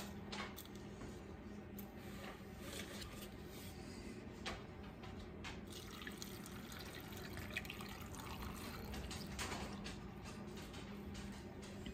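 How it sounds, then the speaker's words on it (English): Liquid brine for fermented dilly beans is stirred, producing a faint, continuous watery swirl with light splashes and occasional soft clinks, quiet and close. "just give this another stir just to make sure we're kind of evenly dispersed here"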